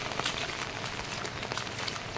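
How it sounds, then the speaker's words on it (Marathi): Heavy monsoon rain pours steadily over rice paddy fields during planting in the Konkan, a faint, continuous hiss with scattered drops and no voices. "आता भरपूर पाऊस लागता।"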